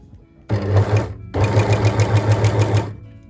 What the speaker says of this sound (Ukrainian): нажимаємо на педальку і починаємо шити